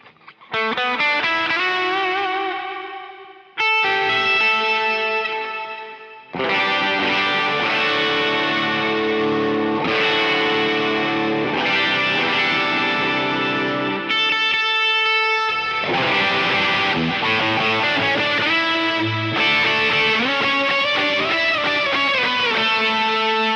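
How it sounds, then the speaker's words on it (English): An electric guitar runs through a POG octave pedal on a pedalboard with reverb, giving thick, layered chords and sustained notes that swell and ring, with a few short breaks between phrases and no talking. "I have a Pog sound, which is this."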